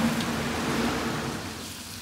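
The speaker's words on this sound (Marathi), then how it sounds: "आज मस्तच पाऊस पडतोय आमच्या इथे." Steady rain falls outside, a dense continuous hiss holding fairly loud and even for the whole stretch, with no voices over it.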